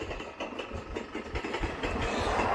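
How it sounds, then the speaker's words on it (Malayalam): Thrissur–Kannur Express hauled by a WAP-7 electric locomotive rumbling past, a steady broadband roar with faint rhythmic wheel clatter that builds toward the end, without speech. "തൃശ്ശൂർ കണ്ണൂർ എക്സ്പ്രസ് ആണ്. വാപ്പ് 7 ആയിരുന്നു."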